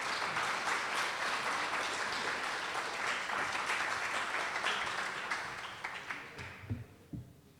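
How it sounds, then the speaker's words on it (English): An audience applauds a professor at a university corporate makeathon, with a sustained, even roar of clapping that holds steady before tapering off into a few scattered claps. "So please applause for Professor."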